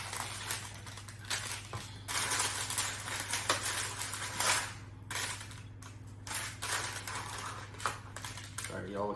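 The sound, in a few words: cutting up low carb pizza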